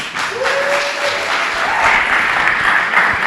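Audience applause for storyteller Jonah Solheim at a Madison Story Slam, a loud, steady wash of clapping that swells slightly toward the end, with a faint voice trailing at the start.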